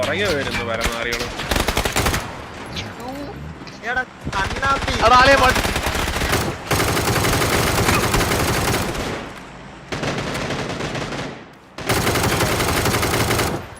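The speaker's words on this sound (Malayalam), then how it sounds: "വണ്ടിക്കകത്ത് നിന്ന് വെടിവെച്ച് ഞാൻ" In a PUBG match, rapid automatic gunfire fired from inside a vehicle comes in several loud bursts separated by short gaps, with game sound effects and some talk mixed in.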